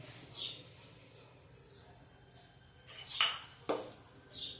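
A cooking pot set down on a gas stove in a home kitchen, a few short metallic clinks and knocks against quiet background hiss.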